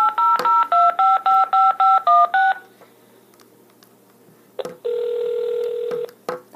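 A touch-tone phone dials a toll-free 1-800 number: a quick run of about nine evenly spaced beeps, a pause, then one long steady tone before a few clicks.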